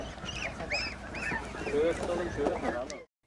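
A crowd of goslings in Ağrı, Turkey, honks and peeps in overlapping, wavering calls, fairly loud and continuous before cutting off abruptly.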